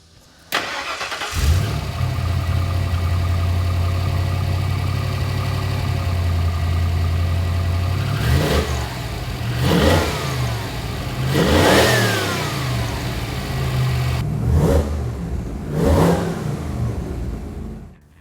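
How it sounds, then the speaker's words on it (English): A Ford Bronco with a 302 V8 and Holley Sniper EFI cranks and fires up, settles into a steady low idle, then is revved in several sharp blips that rise and fall, close by with no speech. "the Bronco runs and idles great. It started up super easy."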